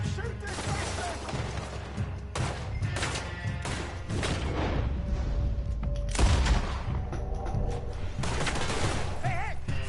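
Gunfire in the Red Dead Redemption 2 video game during a shootout with men stealing from a camp: repeated loud shots and bursts over steady background din, with shouting voices and a horse whinny mixed in.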